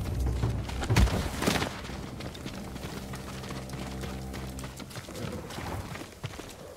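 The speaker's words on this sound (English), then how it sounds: "They're samurai horses." Horse hooves clip-clop near a stable in the samurai video game Ghost of Tsushima, a few soft hoofbeats over low ambient game music with a brief louder thump near the start.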